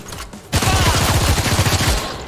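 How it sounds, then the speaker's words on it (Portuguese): Rapid burst of gunfire in the video game Showgunners as an enemy is shot from behind, a quick run of evenly spaced shots following a short quiet lead-in, loud and close. "Vou dar tiro nela pelas costas aqui"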